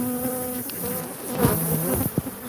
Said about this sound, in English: So these bees, the illusion of nice, that's what I've relied on for years